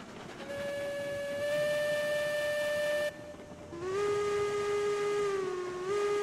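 A video-game steam locomotive whistle in Railroads Online blows in two long tonal blasts, the second lower and wavering slightly, over a rumbling train background.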